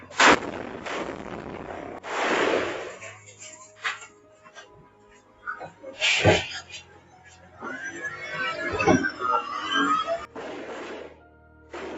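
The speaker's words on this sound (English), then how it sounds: "a rocket-propelled grenade or RPG was thrown in an attempt to kill a mayor in the Philippines" Rocket-propelled grenade explosion caught on CCTV during an attack on a mayor in the Philippines: sharp blasts and bangs, somewhat distant and thin, with a narrator talking over them.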